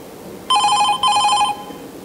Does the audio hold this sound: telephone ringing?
yes